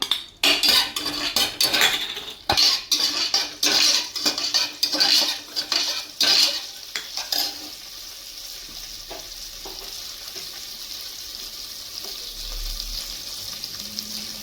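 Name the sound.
green chillies frying in hot oil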